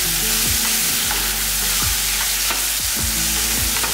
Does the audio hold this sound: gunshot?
no